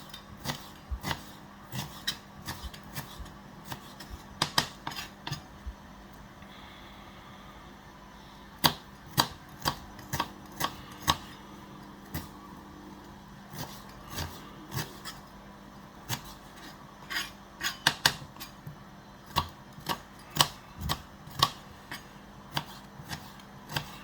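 A knife chops onions into chunky pieces on a cutting board, giving sharp close taps in uneven bursts, sparse at first and then quicker and more clustered, over a quiet kitchen background.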